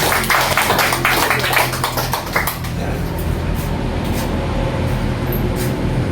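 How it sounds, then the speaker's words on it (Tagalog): Loud congregation clapping at a church worship service in Sabit, Cuyapo, Nueva Ecija, dense and continuous with rumbling room noise throughout, strongest in the first seconds. "sa mga pong malakas na palakpak para sa ating Panginoon."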